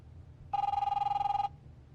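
A telephone rings once in The Wolf Among Us video game, a single bright, warbling electronic ring lasting about a second, clear and close against quiet background.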